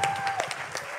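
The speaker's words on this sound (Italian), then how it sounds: "facciamo un applauso a tutti gli interpreti che lasciano il palco" A brief burst of audience applause at the final of a regional music competition, dense clapping at a steady level across the whole moment, with no voice over it.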